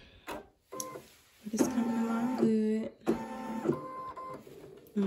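Embroidery machine stitching a Minnie Mouse design onto a shirt, a close mechanical whirring with rising and falling motor tones in short runs, and a person talking over it.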